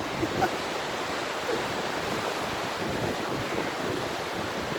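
Strong wind roars across an outdoor microphone as a continuous, loud, broadband rush with slight gusting swells and no other clear sounds.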